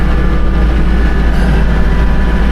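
Tractor engine running steadily while pushing snow up a hill on a driveway after a winter storm, a loud, continuous low rumble with no pauses.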